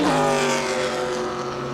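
Wrecked NASCAR stock car at Darlington Raceway pulling away again, a loud engine revving up with rising harmonic tones, then easing off and fading slightly toward the end.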